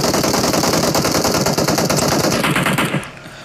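Rapid automatic gunfire in a battle royale esports match, loud sustained bursts of shots for about three seconds before cutting off abruptly.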